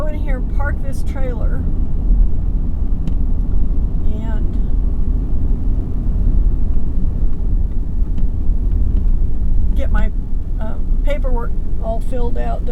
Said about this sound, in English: So what I'm going to do is I'm going to go in here and park this trailer.